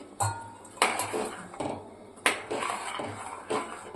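Rice manchurian balls dropped into gravy in a pan, a series of five or six distinct clinks and soft plops of a spoon against metal, close and fairly loud with no talking.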